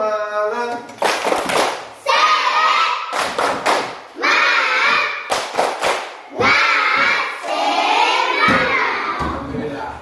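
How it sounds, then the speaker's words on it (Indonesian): Children in a classroom do a rhythmic spirit clap, loud sharp claps in repeated patterned bursts with short pauses, mixed with chanting voices. "Tepuk semangat."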